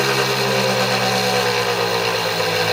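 A six-pole, two-coil test motor running steadily, a loud, even mid-pitched hum with a constant whine and no change in speed throughout.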